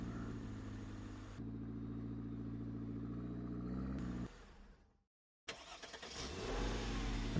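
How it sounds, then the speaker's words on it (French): Car engine idling steadily in a drug-trip simulation video game, a low constant hum with a brief rev, cutting out to silence before other game sounds resume. "Ok, on peut éteindre la bagnole, super."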